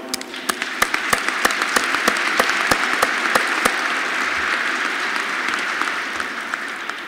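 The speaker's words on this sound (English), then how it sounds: "Please give yourselves a round of applause." Graduates and audience at a SUNY Polytechnic graduation ceremony break into sustained applause, dense and loud, with sharp individual claps standing out early before the clapping thins slightly toward the end.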